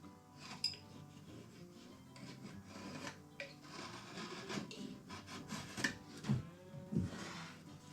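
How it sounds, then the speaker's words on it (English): An X-Acto knife slices trim along an edge during a printer stand build, giving soft rubbing, scraping strokes with a few sharper taps, close and fairly quiet, with no voices. "is just take an X-Acto knife. And we're going to do just slice along the edge."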